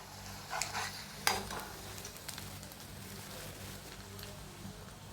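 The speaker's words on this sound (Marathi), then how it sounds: "हे ह्यातच चांगला तळून घेते" Garlic and green chillies fry in hot oil for pani puri chivda, a soft steady sizzle with a few sharp clinks of a spoon against the pan.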